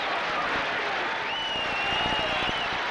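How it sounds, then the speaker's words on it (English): A stadium crowd at a 1981 NFL football game between the Green Bay Packers and Chicago Bears applauds, a broad steady roar of clapping and crowd noise filling the clip throughout. "the crowd beginning to applaud and get at it"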